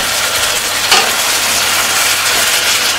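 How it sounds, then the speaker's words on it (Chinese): Half a chicken stir-frying in hot oil in a wok gives a loud, close, continuous sizzling hiss with a brief flare of spattering near the start. "先来一点油，把这半只鸡啊炒一下"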